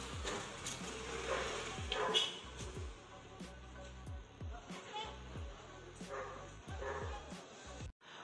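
Several dogs bark and yip repeatedly in quick uneven bursts at moderate distance, with traffic noise from vehicles passing overhead and some talk underneath.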